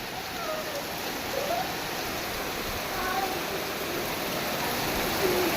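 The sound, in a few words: rain falling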